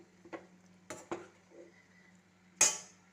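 Drumstick masala stirred in a pot, heard as a few light metal clinks and scrapes of a spoon against the pot over a faint steady hum, ending in one louder, ringing clank.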